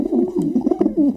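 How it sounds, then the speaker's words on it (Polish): Pigeons coo in an attic, soft throaty burbling calls repeating in an uneven rhythm, close and moderately quiet with no other sounds. "na strychu nie ma niczego poza gołębiami"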